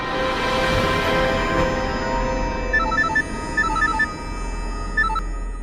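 A phone rings with a repeating electronic ringtone, short bright tone bursts in steady pairs, loud and close, over a hum of background music in a tense crime drama scene.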